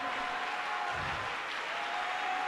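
Steady crowd applause at a church worship service, a soft wash of many hands clapping at a distance, with a faint sustained tone underneath and no one talking.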